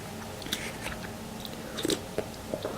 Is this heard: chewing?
yes